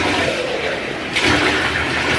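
Water pours steadily and loudly at close range while a toddler's hair is rinsed, with a brief surge in the flow partway through.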